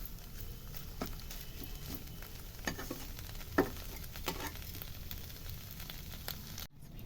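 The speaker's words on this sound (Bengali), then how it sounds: "তাই আমি তেলের মধ্যে একটু নেড়ে নিচ্ছি" Mustard greens paste stirred and fried in oil in a pan: a steady close sizzle with repeated scraping strokes of the spoon and a sharp clack near the end, no voices.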